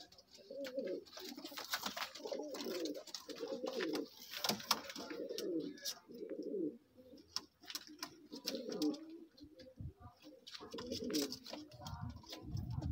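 Pigeons cooing in repeated soft throaty bursts, close and fairly quiet, with scattered clicks and rustling between the calls and no talk.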